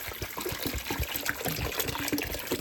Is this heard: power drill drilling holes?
no